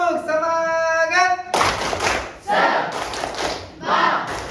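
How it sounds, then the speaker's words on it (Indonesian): After a short sung or chanted opening, a class bursts into the rhythmic 'tepuk semangat' spirit-clap cheer, loud sharp clap bursts mixed with shouted voices in a patterned beat. "Tepuk semangat."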